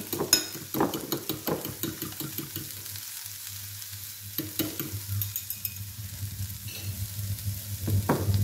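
Salted egg mixture with cilantro poured over an egg in a frying pan, sizzling up close with repeated stirring and light utensil scrapes against the pan.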